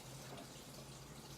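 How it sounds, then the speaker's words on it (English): Tap water running steadily into a sink during hand washing, a continuous even hiss that stays faint and unbroken throughout, with no talking. "So we will just quickly wash our hands again"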